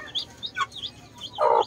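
Young Jersey Giant crossbred chicks give a few short, high chirps and peeps, then one louder, longer call near the end, fairly close with quiet gaps between.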